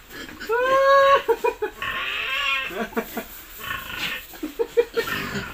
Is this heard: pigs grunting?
yes